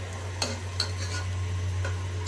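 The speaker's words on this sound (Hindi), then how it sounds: "ये मैंने सरसों के तेल में गरम मसाला और प्याज और तेज पत्ता साबुत मसाला ये सब फ्राई कर रही हूँ।" Onion, garam masala and bay leaf frying in mustard oil, a soft steady sizzle under a low hum, broken by a few sharp clicks of a spoon stirring against the pan.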